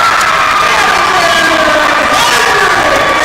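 Crowd cheering and shouting in a gym at a girls' high school basketball game after a made two-point basket, a loud, sustained roar of voices filling the hall for a few seconds.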